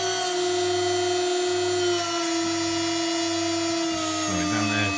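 An HSD CNC router spindle driven by an Ecogoo 9100 VFD on 400 Hz spins up to 24,000 rpm, giving a loud, steady high-pitched electric whine with layered harmonic tones that briefly shift and wobble near the end.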